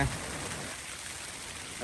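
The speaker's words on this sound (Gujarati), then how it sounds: "વરસાદ પાછો ફૂલ ચાલુ થઈ ગયો" Heavy rain hisses steadily outside a tent as a dense, even wash of noise, fairly quiet and continuous, with no other distinct sounds.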